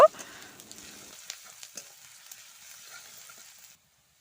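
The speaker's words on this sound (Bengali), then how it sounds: "রসুনটাকেও আবার ভালো করে আমি তেলে নাড়াছাড়া করে নেব" Soft crackling sizzle of garlic frying in oil, steady and fairly quiet with a few small pops, fading out near the end.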